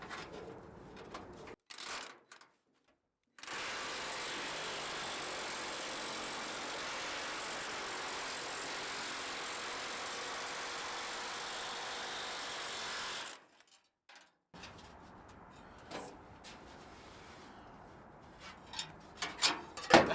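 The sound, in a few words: Milwaukee M12 cordless power hammer cutting sheet metal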